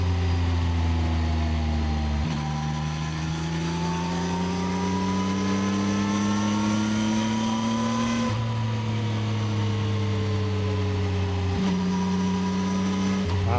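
A 2026 CFMOTO 675NK motorcycle's exhaust drones deeply and steadily, its pitch climbing and dropping across a few gear-like shifts, loud and close throughout with no voices.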